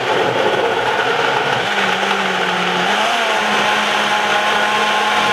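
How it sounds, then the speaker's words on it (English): A Ninja blender blends a smoothie, running steadily and loudly, a constant whirring roar with slight shifts in pitch as the contents churn. "Then we're going to blend this for about 3 to 4 minutes"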